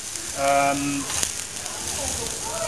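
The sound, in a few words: fillet steak browning in a frying pan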